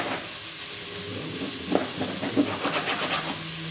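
Chunks of bacon fry in a pan for a Scottish stovies dish, giving a soft, steady sizzle with no one speaking.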